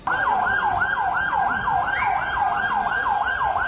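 An ambulance siren wails in a fast, steady up-and-down cycle at the site of a blast in Istanbul, loud and close, running throughout with no voices.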